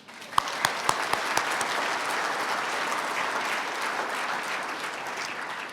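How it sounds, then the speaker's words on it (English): Steady audience applause fills the hall at the 2022 UNLV Athletics Hall of Fame induction ceremony, a few sharp claps standing out near the start before the clapping settles into a dense, sustained roar from the crowd. "let's have another round of applause for us being here in person"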